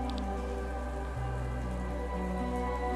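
Steady rainfall blankets a gloomy city in the video game Chained Echoes, a constant even hiss set under a low tonal music bed, with no voices.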